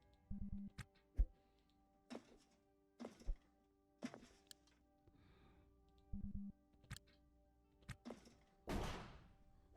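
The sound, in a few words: gunfire in the video game Ostranauts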